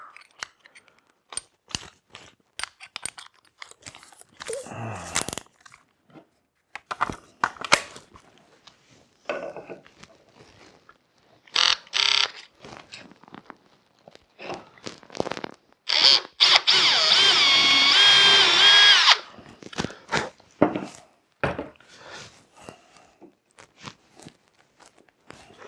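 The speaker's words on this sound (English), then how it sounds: "All right, so I have a 3/8" bit and a drill." A power drill fitted with a 3/8 inch bit bores a hole for a hay sign, heard as a few short bursts and then one sustained, loud drilling run lasting several seconds, with scattered handling clicks between.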